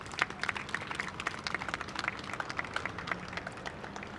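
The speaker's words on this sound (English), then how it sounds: "So let's have a big round of applause." Faint, distant applause from an outdoor community crowd at a local town celebration, a steady patter of scattered claps with a low background hum throughout.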